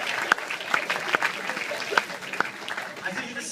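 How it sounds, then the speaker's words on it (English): Audience at a stand-up comedy show clapping, a short patter of applause with a few sharp distinct claps standing out over a dense bed, while voices carry over it. "give a big round of applause"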